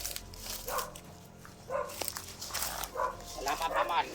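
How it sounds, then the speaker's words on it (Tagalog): Dogs barking in a video game, heard as short scattered barks mixed under continuous talking and game sounds at moderate loudness. "Matindi yung mga aso nito."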